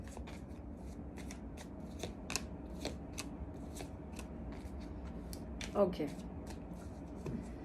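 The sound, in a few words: tarot cards being shuffled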